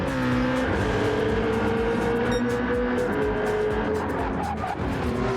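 Race cars in a racing video game at Laguna Seca scream along in a loud, continuous engine whine, with shifting pitch as cars battle closely and brief tire noise.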